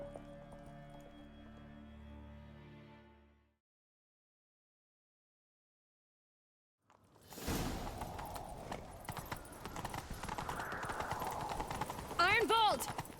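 Fast clip-clopping hooves gallop in The Witcher 3 after a short silence, mixed with rumbling and shouting voices during a chase, growing louder toward the end.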